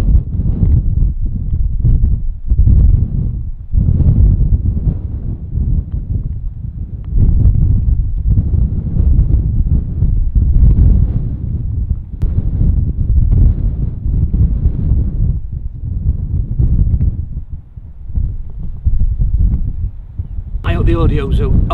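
Strong gusts buffet the microphone on an exposed links golf course at Royal Portrush, a loud continuous low rumble that surges and dips in waves throughout, with brief rustling and a short higher-pitched burst near the end.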